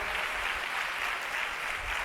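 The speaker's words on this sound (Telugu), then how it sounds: "చప్పట్లు కొట్టి ప్రభు నామమున మహిమపరచండి" Congregation clapping during a Palm Sunday church service, a dense, steady wash of many hands filling the room without a break, with no voices over it.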